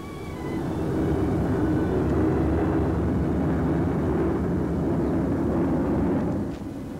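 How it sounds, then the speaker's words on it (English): Engines of a British Sunderland flying boat drone in a steady, dense rumble over Burmese jungle, a continuous mid-loud roar that fades in at the start and holds without a break. "Over wild Burmese jungles, the British Sunderland flying boats ferry supplies."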